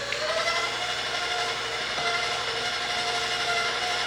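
Electric mixer whirring steadily as it blends brownie batter, a continuous even drone filling the whole stretch with no talking.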